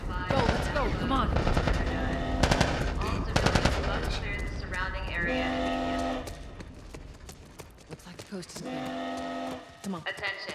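Gunfire in a shooter video game played on a PC: loud bursts of rapid automatic fire and repeated shots over a dense battle din, with voices shouting throughout.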